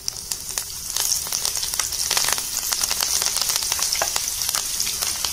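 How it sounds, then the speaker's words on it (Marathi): Green chillies frying in hot oil for thin poha chivda, a dense continuous crackling sizzle with rapid spitting pops, close and fairly loud throughout. "आता ह्या मिरच्या पण आपण अशाच तळून घ्यायच्या।"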